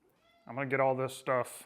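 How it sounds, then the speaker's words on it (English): A house cat meows twice, close and loud, with a long drawn-out cry followed by a shorter one, after someone briefly speaks in a room. "that's my cat just trying to be annoying a little bit."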